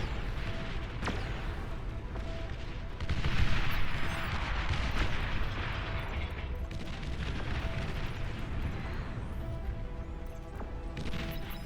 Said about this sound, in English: Commander destroyed.